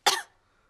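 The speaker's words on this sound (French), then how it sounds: "Mais regardez ce qui se passe quand je tousse." A cartoon pig gives a single sharp cough, a bright burst that fades within a fraction of a second, close and alone.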